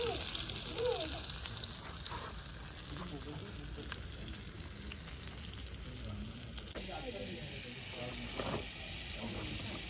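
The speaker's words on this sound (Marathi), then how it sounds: "पापलेट फ्राय मस्त हे बघा हे मस्त हळूहळू कुक होणार" Pomfret fish frying in a pan with garlic and curry leaves, a steady dense sizzle running the whole time with scattered crackles and occasional stirring, a voice speaking quietly underneath.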